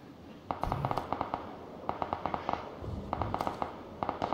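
Bursts of rapid gunfire in PlayerUnknown's Battlegrounds, short clusters of sharp cracking shots repeating every second or so at a moderate level, with no talk over them.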